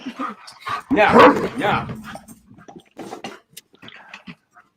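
A dog barks and whines in short bursts among the louder voices of people talking nearby, its yips and whimpers mixed in with the conversation.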